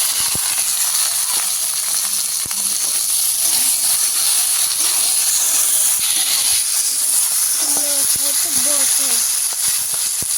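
Chopped vegetables and slit green chillies sizzle steadily in a hot pan with fried lentil dumplings for a Bengali stir-fry of Malabar spinach stems, a continuous loud hiss throughout with brief faint voices in the background.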